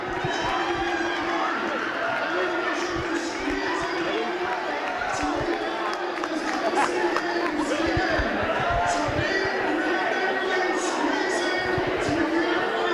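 A big crowd of basketball fans chatter steadily in a high school gym before a championship game, a dense continuous murmur with occasional shoes squeaking and thuds, while an announcer talks over it.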